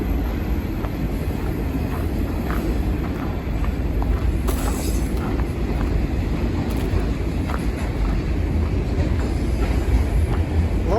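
A train rolls past near a hiking trail on the Pinhoti, a steady low rumble with wind buffeting the microphone, continuous and fairly loud throughout without speech.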